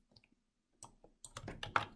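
Mouse right-click on a computer, a faint tiny click amid quiet desk noise followed by a burst of louder clicking and handling sounds near the end.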